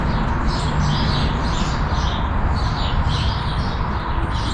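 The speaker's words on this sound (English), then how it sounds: "these birds are really singing" Birds chirp again and again in a Home Depot garden container section, their faint high twitters running under a steady, loud background hum with no talking.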